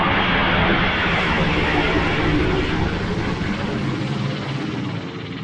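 A loud, steady helicopter roar with a broad whirring drone from the Captain Scarlet puppet series, slowly fading slightly toward the end, with no voices.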